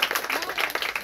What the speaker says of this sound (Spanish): un aplauso fuerte para ustedes también